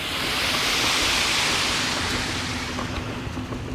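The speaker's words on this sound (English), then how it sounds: "looks like they've got the little water fountain on here" A small public water fountain runs beside a path, a steady broadband rush of splashing water that stays loud and even throughout, with no talking.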